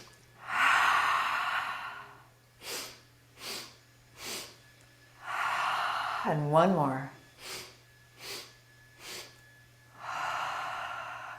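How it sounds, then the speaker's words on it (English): Breath-of-joy breathing exercise in a chair yoga session: rounds of three short, sharp inhales followed by one long, full exhale, close and clear, with a brief spoken cue between rounds. "It's short little inhale, inhale, inhale, and exhale everything out."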